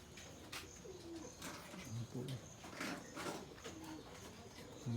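Pigeons coo softly several times in low, rounded calls at Garinfarm, spaced irregularly against a quiet background with a faint steady high tone.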